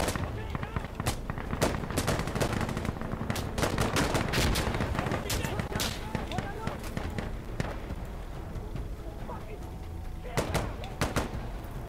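Video game gunfire: rapid bursts of sharp automatic shots and scattered single cracks, loud and close, rattling on and off throughout while players talk over the action.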